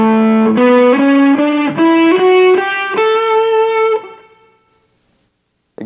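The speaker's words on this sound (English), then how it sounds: "here's A Mixolydian" A distorted electric guitar ascends the A Mixolydian scale note by note at a steady pace, the last note held and ringing out into silence before a brief click at the end.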